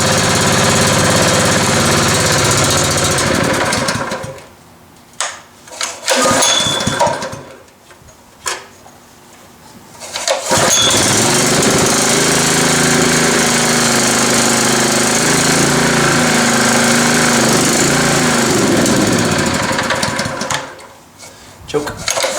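A Honda GX160 small engine runs rough and loud with an uneven, knocking chug, cutting out twice into near silence before catching and running steadily again, then dropping out once more near the end.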